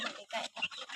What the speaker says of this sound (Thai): ไก่น้อยอันนี้เขาเลี้ยงไว้ในกรงพี่น้อง